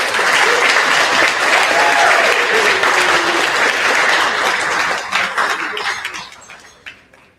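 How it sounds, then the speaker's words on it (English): Audience at an awards gala bursts into sustained, dense clapping that holds steady for several seconds, then thins out and fades away at the end. "One more time, Dr. Afia Wilson, please give her a round of applause."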